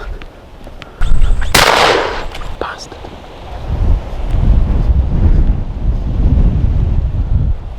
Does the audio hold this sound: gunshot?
yes